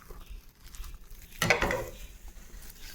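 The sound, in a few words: adding mashed banana to semolina, wheat flour and ghee mixture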